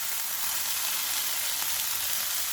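Minced meat keema with capsicum frying in oil over low-to-medium heat hisses and sizzles steadily and closely, with a bright, even crackle and faint stirring, no voices.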